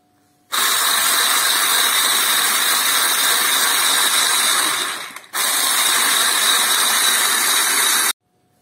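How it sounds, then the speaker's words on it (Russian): An electric mixer whips cake batter with condensed milk for a Tatar sour cream cake, a loud steady whirring buzz that runs continuously, dips briefly, then resumes and cuts off. "Сейчас добавляем сгущенку. И будем продолжать взбивать."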